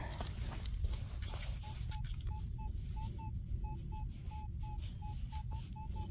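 A metal detector sounds a series of short, evenly spaced beeps while sweeping over a target in mud, faint and clear over low outdoor rumble.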